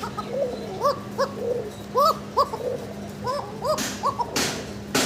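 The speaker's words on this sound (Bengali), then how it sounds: "নরমাদি দুইটাই ডাকে" Fancy pigeons, both male and female, coo repeatedly in a loft, the rhythmic rolling calls overlapping at close range with a few faint chirps and some rustling near the end.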